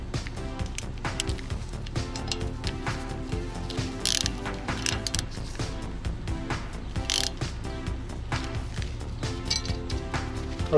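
Rapid clicking of a ratchet tightening rear brake rotor hardware on a Lincoln MKS, close and continuous with metallic pawl ticks throughout.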